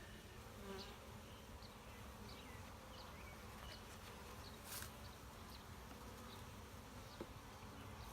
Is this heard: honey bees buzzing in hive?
yes